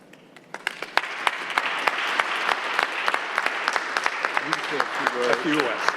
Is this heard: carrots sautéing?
no